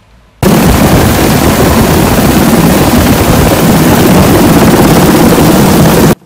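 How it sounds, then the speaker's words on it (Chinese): A loud, steady roar of a rescue helicopter hovering over a mountainside during a body hoist, constant and close for about six seconds with no voices. "接下来上方的空勤直升机顺利的吊挂上机"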